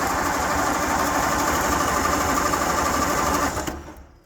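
A classic car or tractor engine cranks over on its starter lever, a steady, loud, rapid churning that runs for about three and a half seconds before stopping abruptly.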